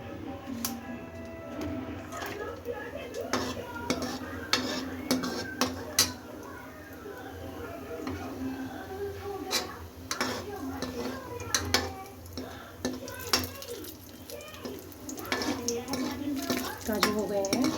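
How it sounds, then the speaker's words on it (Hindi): Cashews fry in a pan after almonds, with a busy run of spoon scrapes, clinks and pan knocks over a low sizzle, and a voice talking at times. "अब इसमें मैं डालूँगी काजू"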